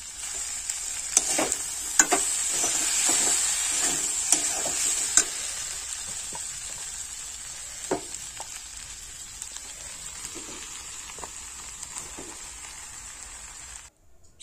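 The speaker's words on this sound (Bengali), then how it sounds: "সবজির সাথে চাল ডাল খুব ভালোভাবে 2 থেকে 3 মিনিট নাড়াচাড়া করে আর একটু কষাই করে নেব" Boiled rice and lentils being stirred and fried with vegetables for a vegetarian winter khichuri: a continuous sizzle under repeated scraping and clattering spoon strokes, busier at first, then thinning to a quieter steady hiss.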